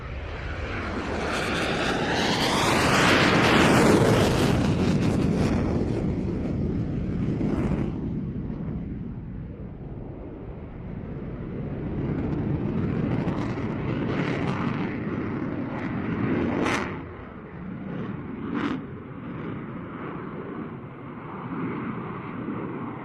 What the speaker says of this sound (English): It's the EF-18 of the Spanish Air Force. Oh, here he goes for the takeoff